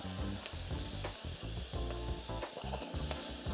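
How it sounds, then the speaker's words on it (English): A large onion with a good pinch of salt sizzles steadily in a hot pan, a continuous close frying crackle with occasional stirring clatter, no voices. "We'll just let that onion cook down a little bit before adding the garlic and the ginger."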